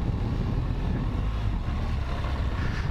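Off-road vehicle engine running steadily under throttle, a continuous low rumble with wind buffeting, close and loud throughout.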